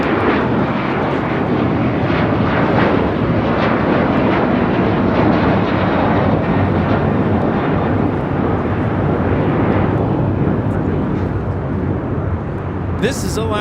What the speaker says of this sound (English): This is Alaska Airlines 380 taking off to Fort Lauderdale on a 737-900ER.